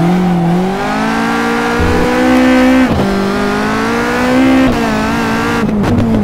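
A Caterham 620R sports car driven hard around a kart track, its engine roaring loudly and continuously with rising and falling revs, sharp gear changes and tire squeal near the end.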